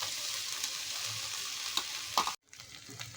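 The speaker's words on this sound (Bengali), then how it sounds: "একটুখানি নাড়িয়ে আমরা এর সাথে আদা রসুন বাটাটাকেও আমরা দিয়ে দেবো" Ginger garlic paste sizzles and is stirred in hot oil in a pan for egg korma, a steady close frying hiss with light scraping strokes. The sound cuts out briefly near the end and then comes back.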